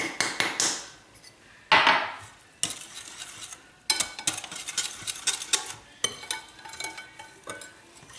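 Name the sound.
continuous stirring of dessert mixture in pot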